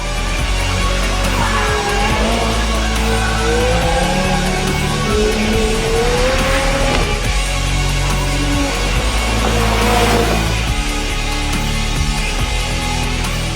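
A 2018 McLaren supercar drives hard, its engine droning and rising in pitch through the gears with tire squeal, loud and continuous with no talk.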